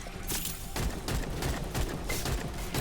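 Rifle firing full-auto in the video game Wayfinder, a rapid unbroken burst of shots with sharp repeated cracks throughout, loud and close with no voices.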